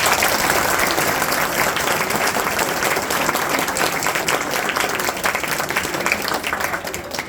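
Loud, dense applause from an audience at a school annual function, steady and continuous throughout, tapering slightly at the very end.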